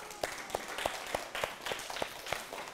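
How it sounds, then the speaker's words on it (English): Audience at a children's science show clapping for themselves, a thin scattering of hand claps with distinct individual claps at a fairly regular pace, moderately quiet. "big round of applause for yourselves"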